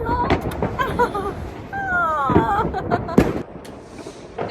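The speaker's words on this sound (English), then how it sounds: "we are enjoying this time firecrackers" Firecrackers and fireworks burst at a New Year celebration: several sharp cracks and booms, some near, some distant, mixed with cheering voices and a whistling rocket.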